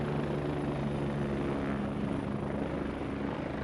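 Military helicopter in a video game infantry battle, its steady rotor and engine drone loud and continuous throughout with no talk.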